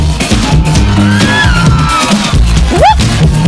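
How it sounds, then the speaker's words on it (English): Crowd at an outdoor cultural event cheering for the Prince Albert Drummers, loud continuous whoops and shouts over steady low drumming, with a sharp rising whistle near the end. "Make some noise for them."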